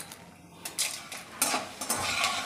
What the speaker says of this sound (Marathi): तूप गरम झालेलं आहे, यामध्ये थोडा डिंक टाकून मी असा डिंक छान तळून घेणार आहे